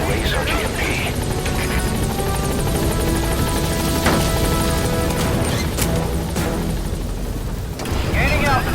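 Metal Gear Solid V game helicopter climbing in altitude, a loud, steady rotor drone and engine whine with occasional thuds and crashes mixed in, while a voice talks over it.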